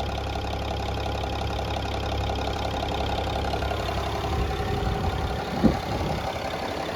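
A 2005 Mercedes-Benz E320 CDI diesel engine running smoothly, a steady low idle rumble with a faint diesel clatter, close by, and one brief knock near the end.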